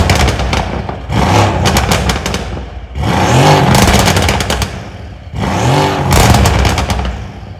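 A Mercedes C63 AMG S Coupe engine is revved hard three times at close range. Each loud, rising roar crackles and pops as it falls away, with short quieter gaps between the blips.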